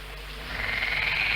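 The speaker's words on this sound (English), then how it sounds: "It's nothing. It's only a frog." A frog gives a short rasping croak near a frog tank as rain begins. The call swells out of a low, steady background and sounds faint and somewhat distant.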